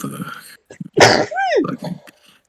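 A single loud, close sneeze bursts out midway through a quiet moment at a tabletop role-playing game session, with faint voices murmuring before and after it.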